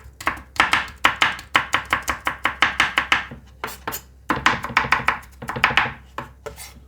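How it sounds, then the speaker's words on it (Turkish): Rapid knife chopping of garlic on a board, a steady run of sharp close taps in bursts with brief pauses, no talking. "bir adet sarımsağımı atıyorum arkadaşlar. Şöyle ince ince doğrayıp"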